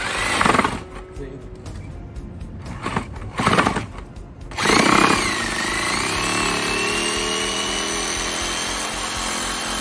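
A power saw cuts through a wooden board for a garden entrance trellis, with short bursts of sawing followed by a longer sustained cut, loud and close, with a voice talking between the cuts.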